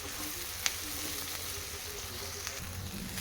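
Broad bean (chikkudukaya) fry being stirred in a pan gives off a quiet, steady sizzle, with a couple of faint scrapes or clicks from the spoon.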